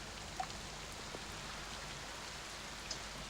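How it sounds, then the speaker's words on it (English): Steady rain played as an ambient sound effect, an even, dense patter with a few louder drops, moderately quiet and alone without talk. "you should be able to hear lots of rain"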